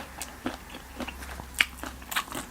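Sharp, crisp crunches from close-up biting and chewing of fried chilies, several irregular bites over a couple of seconds with brittle crackling.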